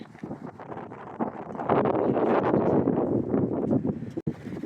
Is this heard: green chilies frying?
no